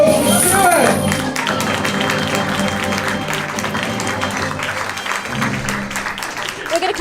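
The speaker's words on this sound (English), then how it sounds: "Round of applause for Stewart." An audience applauds a magician at a magic show, crowd clapping blended with music and a voice talking over it, continuous and fairly loud.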